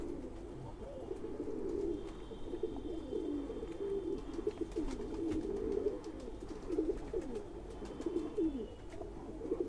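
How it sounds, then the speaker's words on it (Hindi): Pigeons of a Bhopal-bred breed, crossed with Khaki Chua pigeons, coo steadily in overlapping rolling phrases throughout, close and moderately loud against a low background hum. "ये भोपाल से आए हुए कबूतर हैं जी।"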